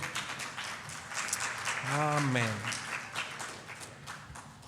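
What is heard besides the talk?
church congregation clapping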